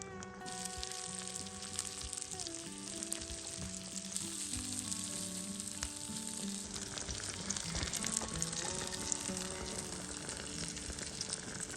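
Food sizzles steadily while frying over an outdoor fire pit, a continuous loud crackle and hiss with stirring, no talk, during an Alaska spring cleanup day.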